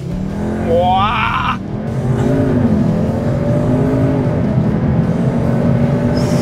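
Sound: Cupra Leon Sportstourer 310 hp full-throttle launch acceleration

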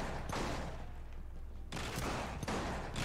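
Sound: shotgun firing in the video game The Bourne Conspiracy

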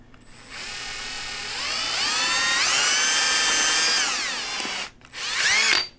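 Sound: drilling through deer skull bone

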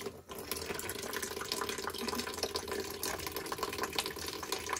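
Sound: small stream of water running into a bucket

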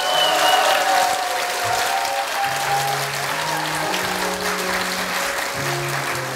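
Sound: audience applause for musical performers

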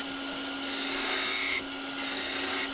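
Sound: spindle gouge cutting wood on a lathe

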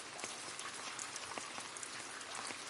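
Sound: summer rain falling

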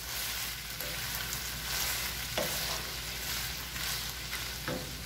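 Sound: al pastor meat frying and browning in a pan

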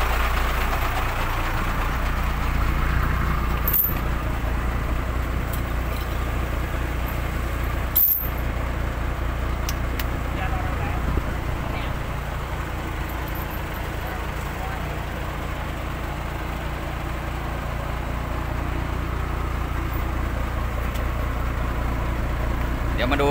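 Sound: Isuzu Deca truck engine running while stuck in mud

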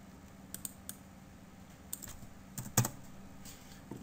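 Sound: typing on a computer keyboard

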